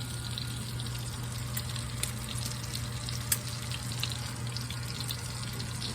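Bacon strips frying in a pan give a steady, moderately quiet crackling sizzle with occasional sharper pops. A constant low hum sits underneath, and no one speaks.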